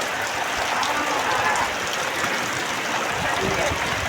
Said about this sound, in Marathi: पाऊस किती लागतोय बघा